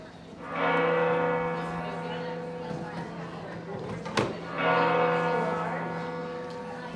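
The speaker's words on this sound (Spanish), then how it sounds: "son las dos, entonces son dos campanadas" Berenguela, the great cathedral bell, strikes two o'clock outdoors in a plaza: two loud, long-ringing bell strokes with a rich humming decay, the second following after a few seconds of ringing. Faint voices murmur underneath.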